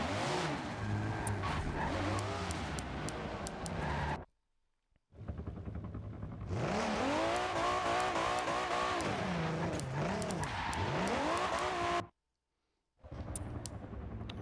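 A Camaro race car in a racing video game at Sebring, engine howling through rising and falling gear changes, loud and close, with two brief silent gaps before the roar resumes.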